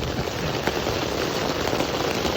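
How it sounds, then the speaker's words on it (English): Heavy rain beating steadily on a tent in the mountains near Bishop, California during a lightning storm, a dense, unbroken patter close by with no clear thunder. "Well, it's raining pretty good, as you can hear, and thundering."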